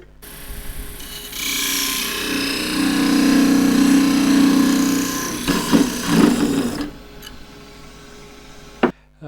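A lathe parting tool cuts through a small spinning wood spindle while turning spillikins, giving a sustained loud whirring cut with a steady hum, then scraping bursts and rattles as the piece separates, followed by quieter running and a sharp final knock.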